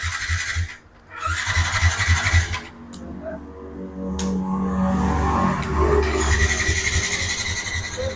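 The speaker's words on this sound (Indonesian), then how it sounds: "Nah, di sini kita ada Vixen. Tahunnya 2014, registrasi 2015. Kita cek sounding dulu." A 2014 Yamaha Vixion motorcycle engine catches after a brief stumble, then settles into a loud, close, rough idle with throttle swells, running steadily for several seconds.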